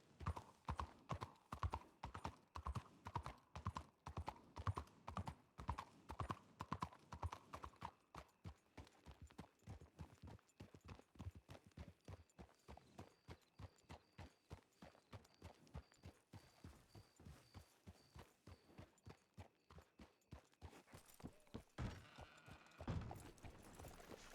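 Horse hooves clop in a video game in a steady, rhythmic gait throughout, close and even, with a brief snort or whinny-like sound near the end.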